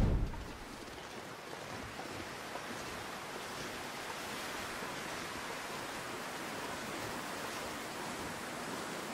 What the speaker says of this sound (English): Oh, it's so windy now.